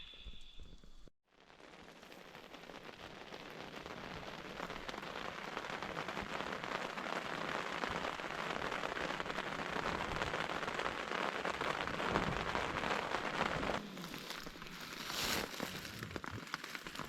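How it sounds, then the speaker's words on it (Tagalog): Heavy rain pours steadily at night over a forest campsite in Nueva Vizcaya, a dense, continuous hiss of drops drumming on surfaces that stays loud and close throughout, with no voices. "Malakas ang ulan kagabi."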